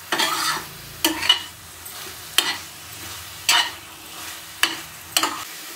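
Thick halwa is stirred in a pan with a spoon, giving several scraping strokes and soft sizzling at an uneven pace. The sound is close and fairly quiet, with no voices.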